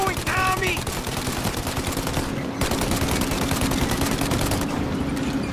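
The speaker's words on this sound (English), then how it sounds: "Reload, Tommy, reload" Rapid automatic gunfire crackles continuously in Mafia: Definitive Edition, dense sustained bursts with a brief dip partway, loud and close.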